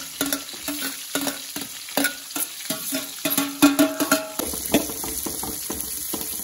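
Food sizzles and fries in a pan while a utensil stirs and scrapes it in quick, uneven strokes, loud and close, with no talking.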